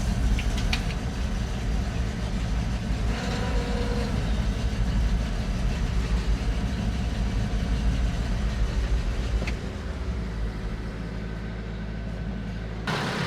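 A 50-year-old crane truck engine runs near at hand with a rough, steady mid-pitched rumble, then drops to a quieter idle before cutting off near the end.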